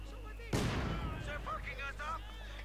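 Mortar fire in the strategy game Company of Heroes 2: one sudden heavy boom with a rumbling tail, followed by a voice talking over the fading battle noise.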